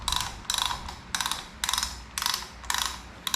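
Ratchet wrench clicking in six quick bursts of sharp metallic ticks separated by short pauses, close and clear, while a turn signal is taken off a vehicle.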